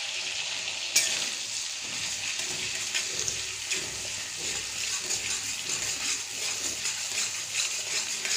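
Continuous crackling sizzle of chopped garlic and ginger frying in hot oil, steady and close, with occasional stirring scrapes and small clinks.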